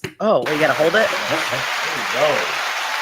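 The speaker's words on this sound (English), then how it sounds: "you got extra applause for that one" An audience claps in a broad, continuous rush of applause at a podcast taping, steady throughout, with someone talking over it.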